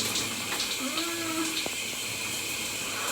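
Steady broadband hiss of a shower running, water spraying continuously throughout at a moderate, even level, with a brief faint tonal squeak partway through.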